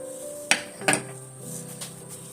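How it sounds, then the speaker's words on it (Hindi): A metal pressure cooker lid is set down and fastened while mutton cooks, giving two sharp close clanks followed by fainter scraping and rattling in a quiet kitchen. "अब मैं इसको कवर करूंगी प्रेशर कुकर को"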